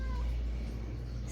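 A house cat gives a short meow right at the start, then fades under a low steady hum and faint background noise.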